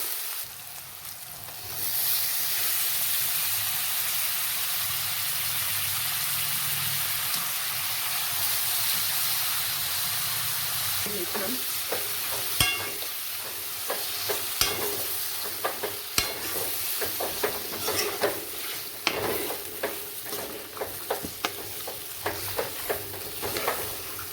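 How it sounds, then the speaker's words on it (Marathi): Mutton pieces drop into hot oil seasoned with turmeric and sizzle steadily in a pan, starting as a soft hiss and turning into louder frying crackle, with repeated scrapes and clinks of stirring near the end. "आता याच्यात मटण टाकून घेऊ"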